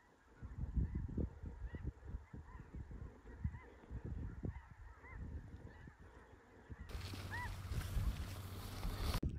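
A huge flock of snow geese honks over fields near a lake in Canada, a dense, continuous wash of overlapping calls at a distance, with wind noise and handling bumps close by.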